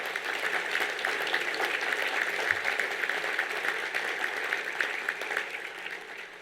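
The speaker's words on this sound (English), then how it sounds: "Let's hear a round of applause for Coach Broyles." A ballroom audience at the Broyles Award ceremony applauds Coach Broyles, giving steady, even clapping from many hands that continues throughout, with no talking over it.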